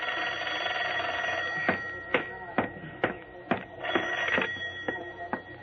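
Old-style telephone bell ringing in a radio detective drama, a series of sharp repeated rings at regular intervals over a steady background hum, close and clear with no talk.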